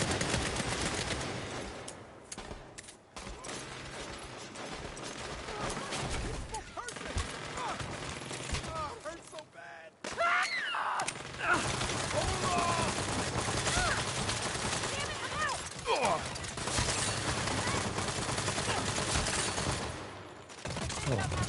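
Gunfire in the Saints Row video game, dense bursts of rapid shots and fusillades running almost continuously and loud, with brief pauses, over a busy game soundscape.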